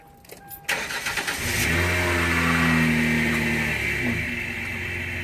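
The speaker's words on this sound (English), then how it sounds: "I am actually going to run the Tigris capsule over with a car." A car engine turns over and revs up close, then settles into a steady running hum as the car drives over a small waterproof capsule.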